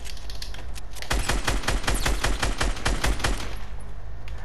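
Rapid burst gunfire in a Fortnite-style shooter video game rattles out as a dense run of sharp, loud shots lasting about two and a half seconds.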